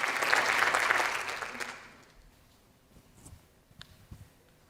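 An audience at a Sesc Vila talk event applauds loudly, then the clapping fades over a couple of seconds, leaving a quiet room with a few faint rustles.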